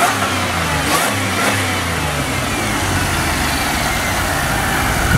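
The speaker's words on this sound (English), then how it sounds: "so you guys can hear the supercharger better" A supercharged Pontiac Grand Prix GTP engine revs steadily with a whining supercharger hum, loud and close, with a couple of throttle blips near the start.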